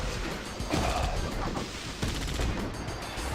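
A powerful vortex cannon fires in a video game as dense, continuous heavy blasts and crackling bursts that pound on steadily and loudly, with brief talk underneath.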